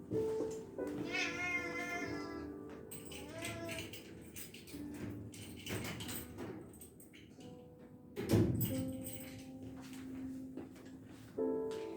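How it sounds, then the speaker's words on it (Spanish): A house cat meows repeatedly, close and fairly loud, with rising and falling cries over a busy indoor background that includes a door being opened. "Dejé salir al gato porque hay que confrontarlo."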